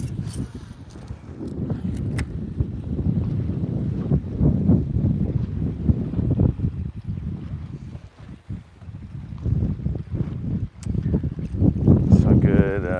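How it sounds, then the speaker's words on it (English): Wind gusts across the microphone outdoors during early morning fishing, a steady rushing buffet that rises and falls, with a person talking over it. "Some good little crisp breeze blowing."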